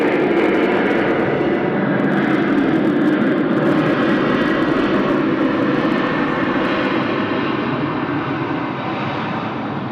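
A plane touching down at Sydney Airport at night in heavy rain: a steady, loud engine roar mixed with dense rain hiss, continuous for about ten seconds with no voices.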